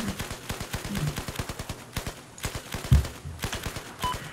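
Rapid automatic gunfire in the video game Battlefield 4, a steady stream of close, punchy shots broken by a brief pause and one heavier blast, with no one talking.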